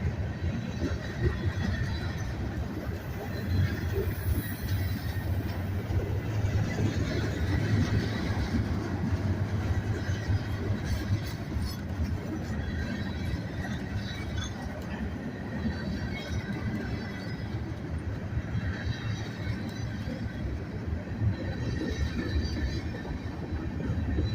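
A southbound train rolls steadily past at the north end of Abbeville, with a distributed power unit at the rear. Its wheels squeal and rumble continuously and loudly, with no pause in the noise.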